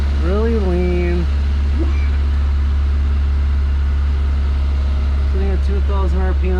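A rebuilt Toyota Celica engine idles on its first start, running lean at a high idle of about 2,000 RPM. It gives a loud, steady, close-up drone, with someone talking over it in short bursts.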